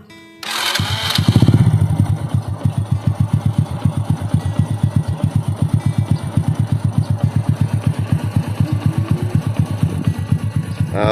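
A Honda Supra X 100 motorcycle engine bored up with a Vario 125 piston starts with a burst, then runs close and loud in a steady rapid thumping idle throughout.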